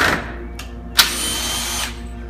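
A power drill backs screws out of waxed maple boards. A short sharp burst is followed by a steady close whir lasting just under a second, then the sound fades.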